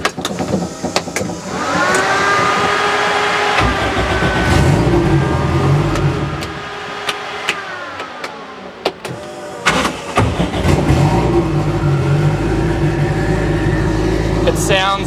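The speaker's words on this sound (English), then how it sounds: "Now if we go ahead and fire up the front engine" A Toyota Starlet's front-mounted engine, run on a Haltech ECU with its exhaust exiting through the front bar, fires up and settles into a steady idle with a few revs, heard close and continuous alongside clicks and mechanical noises.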